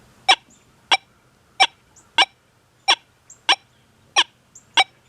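Eight short, sharp electronic chirps from a metal detector notched to 3 repeat at a steady pace with quiet gaps between them, bright and fairly loud against a low background hum.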